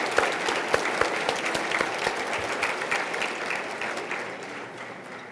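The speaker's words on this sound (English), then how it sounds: "How about one more round of applause for all of our scholarship recipients?" An audience at an awards dinner claps for scholarship recipients, a dense, steady round of applause with a few sharp near claps, fading slightly toward the end.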